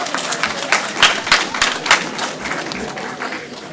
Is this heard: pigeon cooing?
no